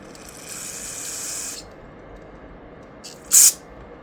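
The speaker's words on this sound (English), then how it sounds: "I'm really not a fan of this carb cleaner. It's like 2 settings, off and fire hose." Carb cleaner sprays onto the carburetor of an Echo leaf blower, first as a softer hiss lasting about a second, then as a short, sharp, loud burst near the end, with no voices.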